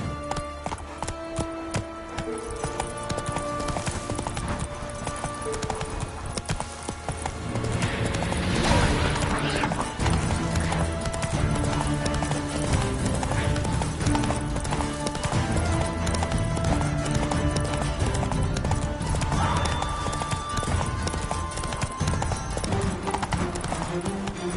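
Roach the horse gallops in The Witcher 3, with steady clip-clop hoofbeats and an occasional whinny running under a continuous game music score, growing fuller about halfway through.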